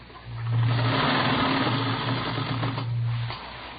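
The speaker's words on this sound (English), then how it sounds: "I've got this sewing to do. You can see that, can't you? 3 more rows of ruffles go on." A sewing machine stitches rows of ruffles in an old radio drama, a steady close mechanical whirr and hum that starts up, runs for about three seconds and then winds down, with no talking.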